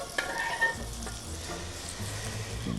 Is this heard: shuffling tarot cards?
no